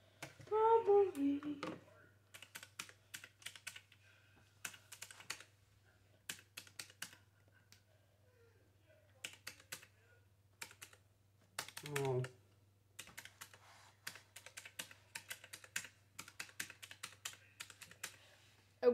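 Calculator keys clicked rapidly in irregular bursts of sharp plastic taps, with quiet gaps between runs of presses, close and alone in a quiet room.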